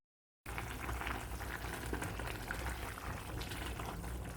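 Water bubbles at a rolling boil in a cooking pot with green chillies for banana flower kabsa rice. The close, steady simmer churns continuously with small pops, and no one talks over it.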